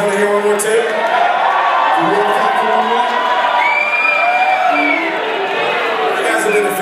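A live concert crowd at Crystal Bay Casino cheers, whoops and shouts steadily after a band's set, loud and close, with children's and adults' voices blending into one sustained roar.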